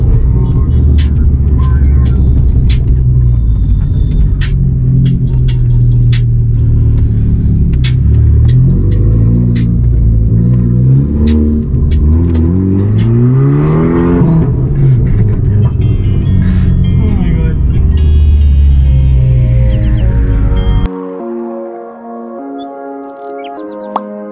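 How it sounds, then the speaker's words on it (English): A car with a 2JZ engine revs repeatedly on a street in Chandigarh, loud rising and falling engine sweeps broken by sharp exhaust pops and bangs, ending abruptly as it passes, with birds chirping faintly. "I can never get over the pops and bangs in this car."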